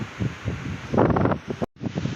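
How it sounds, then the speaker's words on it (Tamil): Strong wind gusts hard across a hilltop at Kapaleeswari Amman temple in Madurai, a loud roaring rush that swells and buffets the microphone before a brief drop-out. "சரியான காற்று அடிக்குதுங்க பார்த்தீங்கன்னா தெரியும் சரியான காற்று அடிக்குது"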